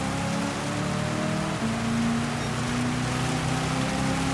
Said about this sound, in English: Right, this rain's going to end.